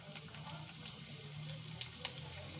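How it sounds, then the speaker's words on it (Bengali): Chopped garlic and ginger fry in hot oil in a pan, giving a soft, steady sizzle with a few small crackles, fairly faint throughout. "তেলটা গরম হলে আমি এখানে রসুন কুচিগুলো দিয়ে দিচ্ছি, তারপরে আদা কুচনো আছে সেটা দিলাম"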